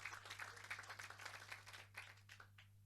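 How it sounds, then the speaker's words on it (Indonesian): Church congregation clapping for Jesus at a Samarinda worship service, a steady spread of many hands for about three seconds over a low constant hum, fading toward the end. "Tepuk tangan bagi Yesus"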